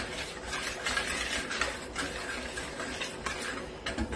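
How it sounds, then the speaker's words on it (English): Cake batter with cinnamon is mixed in a bowl, giving repeated close scraping and tapping strokes of a utensil against the sides in an uneven, steady rhythm. "I'm gonna mix everything together"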